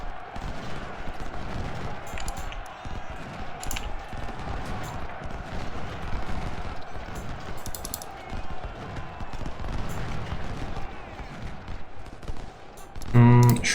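Infantry gunfire volleys in the Ultimate General: Civil War video game produce dense, continuous crackling musketry that rolls steadily for many seconds, with a heavier thump near the end.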